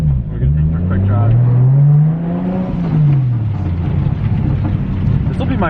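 Toyota Chaser JZX100 fitted with an aftermarket turbo and a titanium exhaust, driving: a loud, close engine drone rises and falls steadily in pitch through acceleration and shifts, continuous throughout, with faint talk mixed in.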